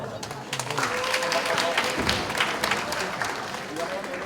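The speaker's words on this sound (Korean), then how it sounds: "박수는 작네요." Audience clapping at a high school debate final, a moderate, dense patter of many hands spread through the room, with speech mixed in.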